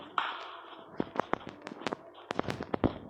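Gunfire in a shooter video game, scattered sharp single shots and short bursts at varying distances over a background hiss, some loud and some faint.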